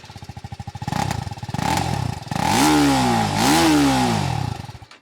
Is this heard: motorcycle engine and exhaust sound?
yes